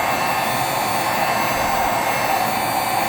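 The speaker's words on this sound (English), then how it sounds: "Hold your heat gun about 1 to 2 foot away" A heat gun blows hot air onto foam board, a steady, loud, unbroken roar from start to finish with no talk.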